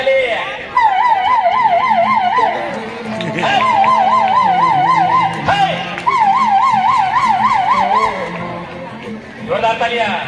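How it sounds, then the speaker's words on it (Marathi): A police car siren wails in a repeated rising-and-falling pattern during a municipal school stage performance, loud and close, with short breaks between bursts over crowd chatter and background voices. "पोलिसांची गाडी आली"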